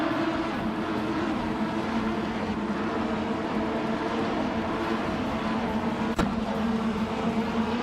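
A 2014 Lamborghini Huracan Super Trofeo racing at Oschersleben in a racing video game, its engine a steady, sustained drone holding level throughout with no talk over it.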